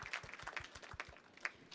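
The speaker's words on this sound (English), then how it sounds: "So huge round of applause to you guys at Telefonica" Audience applause after a conference session, sparse rhythmic clapping from a small group, faint and somewhat distant.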